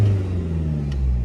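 Diesel engine of a 2018 Mercedes E-Class revs, a low, droning hum with steady tonal layers that holds briefly as the revs build, heard without any speech.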